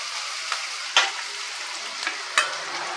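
Ginger garlic paste and onions sautéing in a pan, a steady bright sizzle with a few sharp spoon scrapes and taps at irregular intervals, close up.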